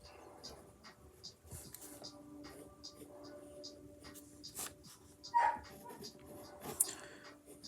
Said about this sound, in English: This is my dog. I don't know if you hear him.